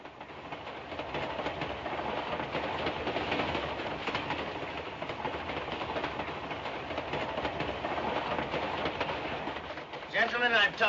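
Steady rumble of a passenger train running along the rails in a 1952 comedy, continuous and fairly close throughout, with voices talking over it.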